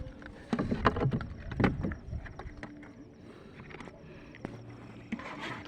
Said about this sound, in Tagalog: Kasakay nga pala kami sa bangka.